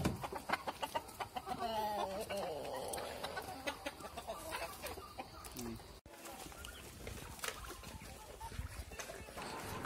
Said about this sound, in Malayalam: നമ്മുടെ കയ്യിലുള്ളതെല്ലാം തനി നാടൻ കോഴിയാണ്.